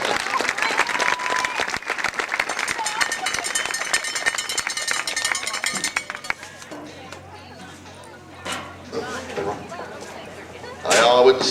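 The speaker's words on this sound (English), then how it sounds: "how about a nice round of applause for each one of these contestants?" An audience at a rodeo queen pageant applauds the lined-up contestants in loud, sustained clapping for about six seconds, then it fades to quieter crowd murmur and a speaking voice, with a brief burst of noise near the end.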